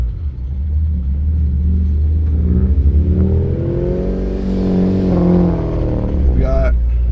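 Cars race, a 2007 Honda Civic Si against a Subaru WRX, with a steady heavy engine rumble and rising revs heard from inside one car, while voices talk over the drone.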